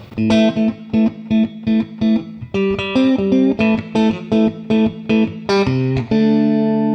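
A Dying Breed Vault 63 Strat electric guitar playing a clean, rhythmic chord pattern in its in-between pickup positions, with short strummed stabs ending on a ringing chord.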